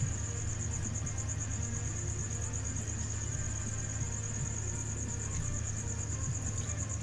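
Male crickets chirp in a steady, continuous high trill that runs unbroken throughout, joined by a lower droning insect hum and no voices.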